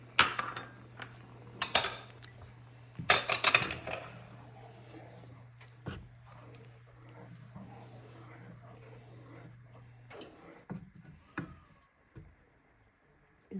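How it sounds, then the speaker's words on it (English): A quick stir of two cups of peas in a pan for dhaba-style matar paneer: a few sharp clinks and scrapes of a utensil against the pan early on, then softer intermittent scraping with a low steady hum beneath. "So now give that a quick stir."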